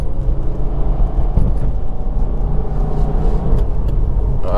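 Cabin view of a 2020 Subaru WRX with a manual gearbox accelerating, a steady loud low engine and road rumble that holds without clear breaks between gears.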